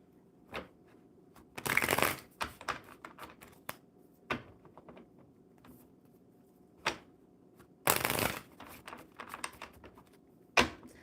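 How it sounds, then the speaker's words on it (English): Playing cards are shuffled in several quick riffling bursts, with softer clicks and taps between them, close and fairly quiet. "One more good shuffle."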